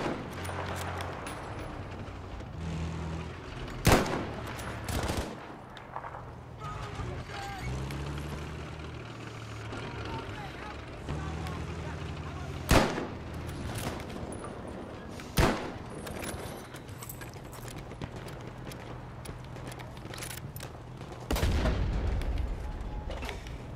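Gunfire in Battlefield V on PC, scattered sharp shots and louder cracks at irregular intervals over rumbling battlefield ambience, ending in a heavier burst of fire.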